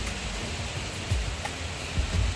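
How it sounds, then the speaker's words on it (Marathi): Heavy, continuous rain pours down in Pune after three days of downpour, a steady broadband hiss with occasional low gusty rumbles, even and unbroken. "एवढा पाऊस पडत आहे, कंटिन्यू 3 दिवस झाला पाऊस आहे पुण्यामध्ये."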